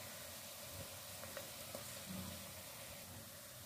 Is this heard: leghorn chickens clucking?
no